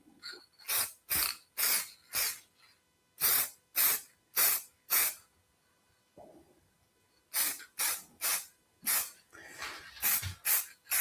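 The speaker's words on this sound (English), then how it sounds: "just give this a quick spray" A spray can laying down a thin coat in short, forceful hissing bursts, close and loud, in quick clustered rhythms separated by brief pauses.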